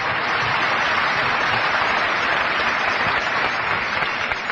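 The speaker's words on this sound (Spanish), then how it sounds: "Hay que aplaudir a Albert Camus, por favor." Steady, loud applause from a large audience at a spoken lecture on human sacrifices, dense clapping filling the whole stretch without pause.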